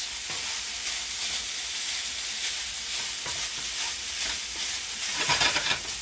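Garlic sizzles in a pan with a steady, close frying hiss, broken by a few scraping stirs and a brief louder flare near the end.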